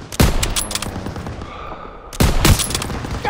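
Machine gun fire in Call of Duty WW2 battle combat comes in two loud, dense bursts of rapid shots, each ringing out briefly before fading into a lower rumble of background battle noise.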